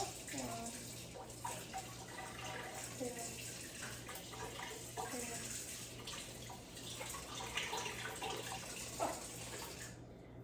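Water running from a kitchen tap while cooking, a faint steady flow heard under a person counting aloud, with a low constant hum in the background.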